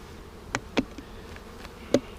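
A few short bee buzzes pass close by at a hive, three brief bursts spaced irregularly over a quiet background.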